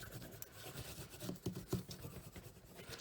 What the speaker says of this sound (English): A little bit of burnishing on that side.